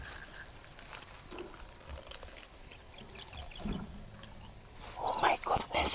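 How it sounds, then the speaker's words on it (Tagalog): Fake cricket chirping sounds out among farm fields, a steady run of evenly spaced high chirps throughout, with rustling and a louder patch of noise near the end. "Fake yung cricket niya. Yung kuliglig, fake."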